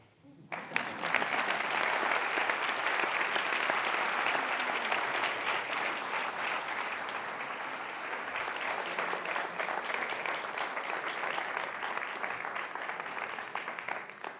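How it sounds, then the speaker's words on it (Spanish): A conference audience breaks into dense, steady applause that starts abruptly and holds at an even level for about fourteen seconds, filling the room without pause. "Y ahora es cuando ustedes aplauden."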